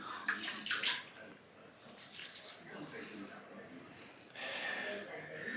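Hands splash and swish in a basin of hot water before a wet shave, giving bursts of sloshing and dripping water that rise and fade, with someone speaking over it.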